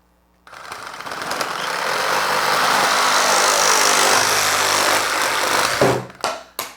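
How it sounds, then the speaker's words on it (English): Reciprocating saw blade cutting through Prime 636 cement pipe, a loud, steady buzzing rasp sustained for several seconds before stopping abruptly with a few short bursts at the end. "I just let the blade cut through the pipe and do the work for me"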